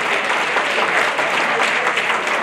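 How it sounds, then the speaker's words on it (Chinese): Audience applause at a Republic of China Military Academy class 52 alumni general meeting, welcoming Naval Academy classmates, a dense, steady clapping from a full room that holds throughout. "鼓掌欢迎，鼓掌欢迎"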